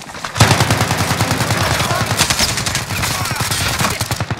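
Rapid automatic gunfire in Call of Duty Warzone, a sustained close burst of evenly spaced shots rattling for several seconds, loud and dense.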